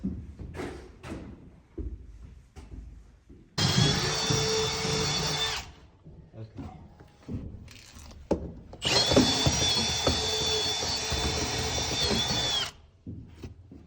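Power drill boring through wood for electrical wiring runs in a shop building, two loud sustained bursts of whining drilling with quieter handling noise and rustling in between.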